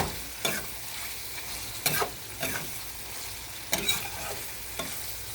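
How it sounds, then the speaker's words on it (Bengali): Spice masala stir-fried in a pan for kolija bhuna (spiced liver), steady frying sizzle with repeated louder scrapes and stirs of the spoon at uneven intervals, close by with no talking. "এখন এটাকে ভালো করে মিশিয়ে নিয়ে কিছুক্ষণ কষাবো"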